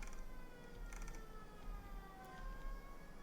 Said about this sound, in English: those ambulances are very loud.